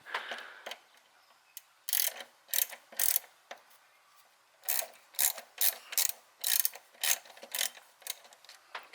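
A 5/16 socket on a ratchet loosens the top fuel line bolt on a GM C1500 pickup, giving bursts of quick, close ratcheting clicks in short repeated strokes with brief pauses between them.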